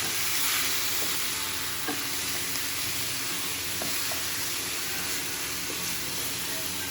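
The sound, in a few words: stirring onion in frying pan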